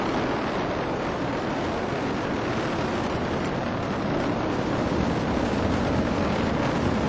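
An Atlas rocket's RD-180 engine roars at full thrust during the SDO launch, a dense, steady broadband rumble that stays loud and unbroken from start to finish.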